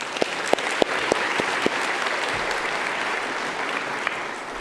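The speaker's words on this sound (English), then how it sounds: "Can we give her a round of applause?" Audience in a church setting applauds a reverend, a few distinct early claps swelling into steady, dense applause that carries on evenly at moderate volume, with no speech over it.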